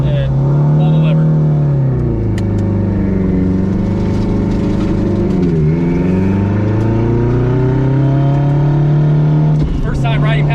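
A 1000-horsepower Acura DC5 RSX accelerates hard at full throttle on the street, its engine note climbing loud and close through the gears with brief dips at shifts, heard from inside the car.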